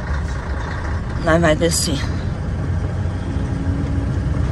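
A truck engine rumbles steadily during a gear downshift, with someone speaking briefly over the low drone partway through.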